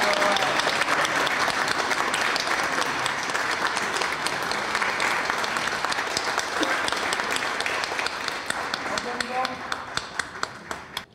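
Sustained audience applause at an inauguration ceremony for a crime victim support center chairman, dense and steady clapping that thins slightly toward the end.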